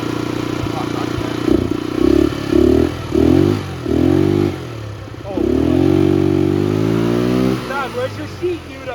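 A Honda Civic engine after an OBD1 P28 conversion, revving in a series of short blips and then one longer rise, loud and close, with people talking over it.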